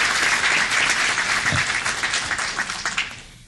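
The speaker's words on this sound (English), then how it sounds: "Let's give him a round of applause," A city council chamber audience breaks into steady applause for a man called forward, a dense roomful of clapping that holds strongly and then thins out toward the end.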